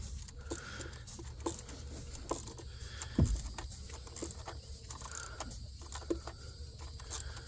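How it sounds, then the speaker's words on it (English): A micro ratchet tightens bolts on the engine of a 2020 Chevy Express 3500 van with a 6.0L engine, giving faint, close clicking runs with small metallic taps and pauses between strokes. "Okay, so I'm just starting in the middle with this micro ratchet."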